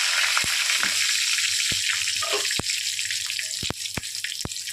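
Whole cumin seeds, a bay leaf and a cinnamon stick sizzle in hot oil for a Bengali country chicken curry, a steady close crackling hiss broken by several sharp pops and spatters.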